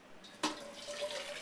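Hot water draining off boiled spinach into a pot below a strainer, heard as a steady soft pouring splash that starts abruptly and runs on quietly, close by, with no talk.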